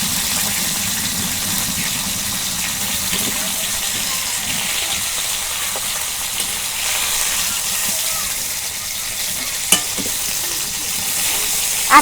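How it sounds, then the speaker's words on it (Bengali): A second batch of brikkot fish fries in a pan, used in place of a tawa, giving a loud, continuous, close hissing sizzle with faint scrapes near the end. "আর এক খোলা আমি মাছ ভাজা নিই।"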